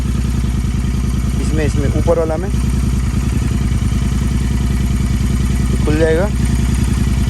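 A Royal Enfield GT650 motorcycle with a Powertronic ECU idles steadily and loudly throughout, its engine throb continuous under a man's speech.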